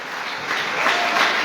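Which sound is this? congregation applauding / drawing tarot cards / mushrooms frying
congregation applauding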